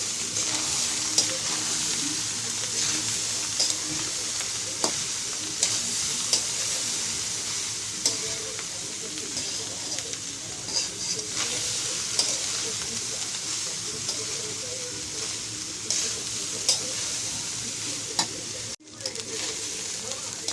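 Steady sizzling of rice, carrot and onion frying in a pan, with scraping and clinking of stirring throughout and a faint voice in the background.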